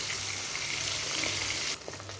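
Fish pieces frying in hot oil give a steady, close sizzle with a dense crackle that runs throughout, shifting slightly near the end as they are stirred or turned.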